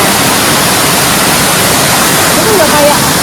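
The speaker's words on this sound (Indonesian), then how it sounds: "Itu curugnya." Curug Indrakila waterfall, with people rappelling down beside the falling water, gives a steady, loud broadband roar close by, constant throughout.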